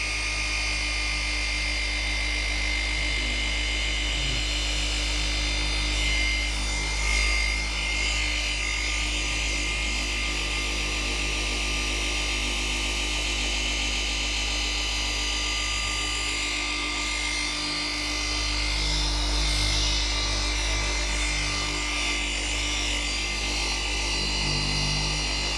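A polishing machine running continuously on black car paint, a loud steady whirring drone with a high whine and slight variations in pitch throughout.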